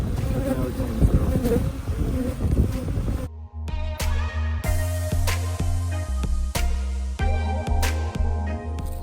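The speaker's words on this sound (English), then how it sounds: "Look at all these bees." Honeybees buzz in a dense swarm, steady and close, with a sharp change partway through as louder individual bees drone past the microphone.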